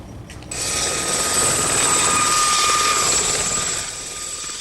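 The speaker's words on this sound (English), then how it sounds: "Above, from Craigan Camp, the helicopter starts the daily surveillance." A surveillance helicopter flies overhead above an army camp in a 1978 border city. Its steady, loud rotor drone and whine swell in after a brief quieter start and hold for several seconds, with no voices.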